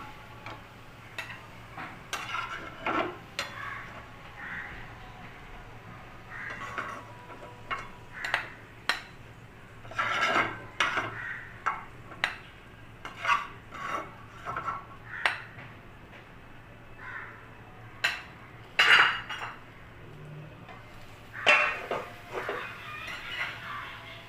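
Pan of fried greens lifted off the stove, a series of light metallic clinks and taps of pots and utensils scattered over a quiet kitchen hum, with no talking.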